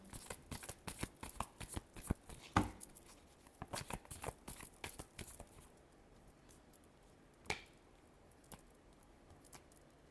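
Tarot cards are shuffled close up in a rapid run of crisp riffling snaps that thins out, followed by a few isolated flicks and a single sharp slap, with no talking.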